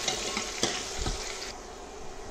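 Chopped onion fries in hot oil in a pan, a steady soft sizzle with a few stirring scrapes and clinks near the start, fairly quiet and close, with no voices.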